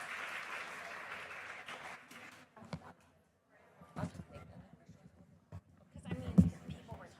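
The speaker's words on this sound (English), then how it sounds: "please, a round of applause one more time for Dr. Okoba" An audience applauds for Dr. Okoba at a cancer community event on clinical trials, a broad wash of clapping for about two seconds that fades out, followed by scattered bumps, footsteps and faint voices in the room.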